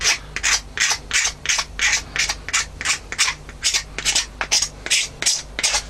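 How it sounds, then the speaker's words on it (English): A Stanley knife blade scraped repeatedly along the corner edge of a Kydex sheet, a quick, even rhythm of about a dozen close, rasping strokes with short pauses between them, heard alone. "what I use is just a Stanley knife and scrape it across the surface of it, just on the corner"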